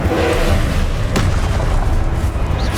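A loud, booming spell blast from the Confringo fire curse in the video game Hogwarts Legacy: a deep sustained rumble with one sharp crack near the middle, close and heavy.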